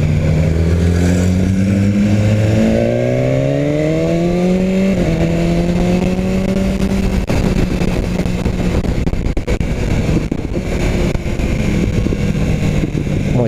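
A BMW S1000 R motorcycle accelerates on the road, its engine note climbing through rising revs before settling into steady riding under loud wind rush, heard up close from the rider's position.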